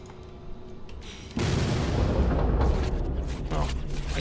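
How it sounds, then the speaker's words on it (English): A photon cannon fires during a space battle in the video game No Man's Sky, a loud, sustained blasting roar that starts abruptly partway through and holds steady after quieter ambient sound. "Photon cannon, I would like to charge you."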